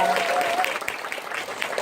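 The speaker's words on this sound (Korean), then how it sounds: "뜨거운 감사의 박수 부탁드리겠습니다" Audience applause at a business group meeting, a steady wash of clapping held at moderate level for under two seconds, fairly close and dense.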